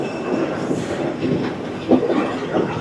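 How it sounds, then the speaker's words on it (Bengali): A train pulls into Kurunegala station in Sri Lanka with a steady rumble of rolling carriages, soft wheel clatter and a few brief squeals rising midway, heard from the platform at moderate distance. "এই আমাদের ট্রেনটা ঢুকলো, এবার এটা ছেড়ে দেবে।"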